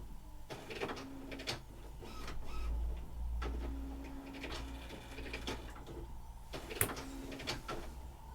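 A home printer that shows a load-paper message runs noisily on its own: repeated whirring and grinding mechanical passes, sharp clicks and clunks, and a loud snap near the end, with a low hum underneath.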